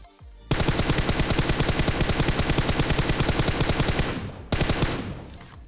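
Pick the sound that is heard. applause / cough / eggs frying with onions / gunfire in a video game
gunfire in a video game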